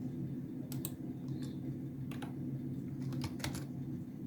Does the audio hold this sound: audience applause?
no